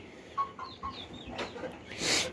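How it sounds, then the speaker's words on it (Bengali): Domestic chickens with young chicks and roosters on a small farm, giving a few soft clucks and chirps with a louder squawk near the end, fairly close but quiet overall. "এই যে এইখানে সব বাচ্চা একটা ফার্মি মুরগি এই যে এটা সোনালি আর সব দেশি"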